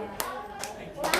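Three sharp hand claps from a group in an ice-breaking exercise, spaced evenly about half a second apart, close and fairly loud, with speech around them.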